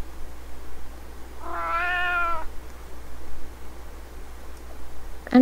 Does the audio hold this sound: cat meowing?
yes